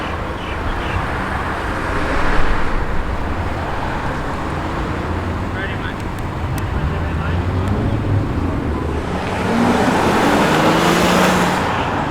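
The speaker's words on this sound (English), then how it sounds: "Look at the SRT, ladies and gents. It's a wagon." A Chrysler SRT wagon rolls into a Sydney evening car show, its engine a broad, steady road rumble with passing-traffic noise that swells near the end, while people talk over it.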